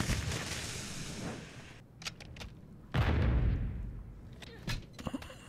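M4 rifle fire in a first-person shooter video game, shooting through a wall: a dense stretch of rapid shots, a pause with a few isolated cracks, then another sharp burst that rings off. The shots are fairly faint and distant.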